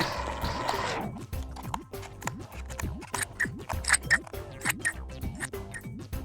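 Repeated crisp snips and crunchy scratching of scissors cutting through a thin plastic food container, close and irregular, with soft clicks between cuts.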